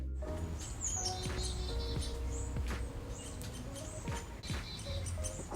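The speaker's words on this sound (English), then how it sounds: "You'll usually hear its distinctive call, chickadee-dee-dee-dee, before you spot it." Several short, high chirpy chickadee calls ring out over a steady low background hum in a Florida backyard, repeating irregularly at moderate distance.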